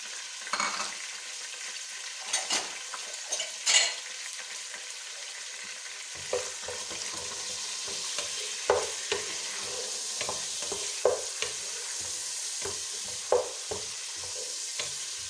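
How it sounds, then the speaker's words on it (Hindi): Onions fry in hot oil for a vegetable pulao, a continuous soft sizzle broken by intermittent scrapes and knocks of a stirring spoon. "इसमें तेल मैंने डाल दिया और उसके बाद प्याज जाएगा"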